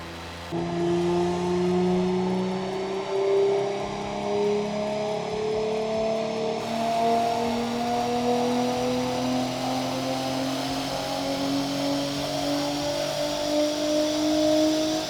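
An Audi RS5 B9 on hybrid turbos pulls through a long, steady rev climb on a tuning run, its engine note rising smoothly in pitch and staying loud and close for the whole stretch, with no talking.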